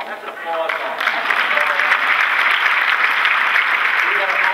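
Keynote audience applauding, a dense, steady wash of clapping that swells quickly and holds loud and even throughout, with no clear voices on top.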